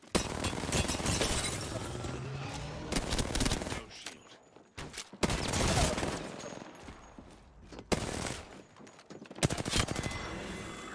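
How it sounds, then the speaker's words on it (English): Ballistic's smart bullets fire in Apex Legends, bursts of loud rapid gunfire in several separated volleys with brief pauses between them, and no speech in between. "Smart bullets away."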